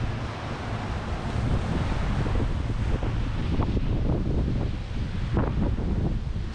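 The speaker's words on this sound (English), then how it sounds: "This is always the windiest area anywhere around here." Strong wind blows across a windy desert area carrying sand, roaring and buffeting the microphone continuously with gusty rumbling throughout.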